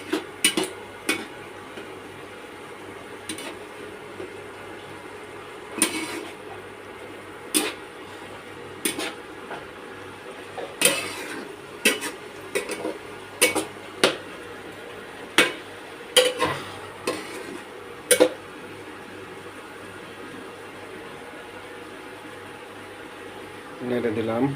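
Coconut prawn curry being stirred in a pan: sporadic utensil scrapes and clinks against the pan come irregularly over a low steady hum, fairly close.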